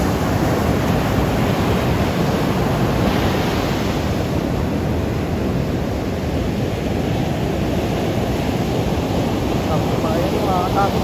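Sea waves roll in steadily at Pawikan Resort beach in Morong, Bataan, a loud continuous wash of surf with wind noise on the microphone.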